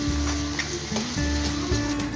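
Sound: minced meat, vegetables and spices frying in a pan

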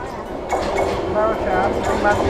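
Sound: local train arriving at station

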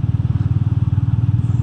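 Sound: Royal Enfield Meteor 350 motorcycle riding

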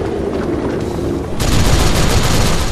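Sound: gunfire in the video game Ninja Blade

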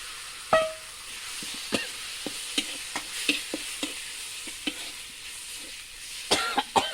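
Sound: stir-frying chicken with bamboo shoots in a pan

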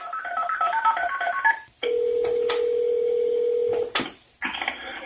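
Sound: telephone call to 911 dispatcher

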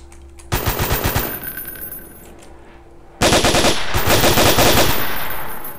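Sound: gunfire in DayZ video game

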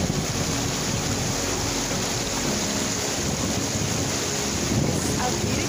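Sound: Latourell Falls waterfall in Oregon

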